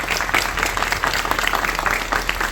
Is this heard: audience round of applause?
yes